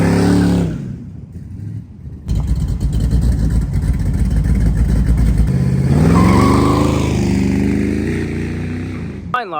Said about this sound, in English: And the truck does a pretty good burnout.